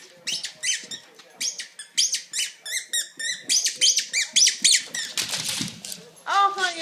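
Bulldog chewing a new squeaky toy indoors, giving rapid repeated high squeaks in bursts throughout, loud and close, with brief rustling between squeezes.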